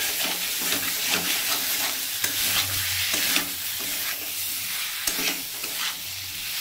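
Jackfruit curry with shrimp sizzles and hisses steadily in a pan while being stirred, with scraping strokes recurring through the clip and no voices.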